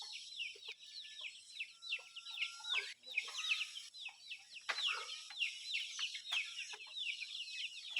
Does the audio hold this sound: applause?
no